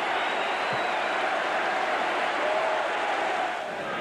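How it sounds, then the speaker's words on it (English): Crowd applause and noise at a 1994-95 Watford football match after a header, a broad continuous wash of distant clapping from the stands with no break. "Applause from his manager."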